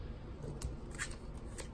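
A deck of playing cards is cut by hand at close range, giving a few short, crisp flicks and snaps spaced irregularly in otherwise quiet surroundings.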